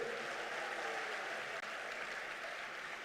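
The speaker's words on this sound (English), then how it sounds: "A clap for the president." Steady, dense applause from a crowd at a youth congress, clapping continuously without pause for the president, fairly distant and soft.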